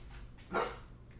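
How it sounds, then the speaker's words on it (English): A pet dog lets out a single short bark indoors at another dog, one quick muffled yap from a little way off in a quiet room. "He's barking at another dog."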